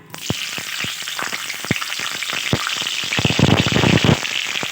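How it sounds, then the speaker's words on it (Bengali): Bitter gourd pieces frying in mustard oil in a kadai on a gas stove, a steady loud sizzle with repeated sharp crackles and spatters that builds slightly toward the end, with no talking. "এবার করলাগুলো দিয়ে ভেজে নেব।"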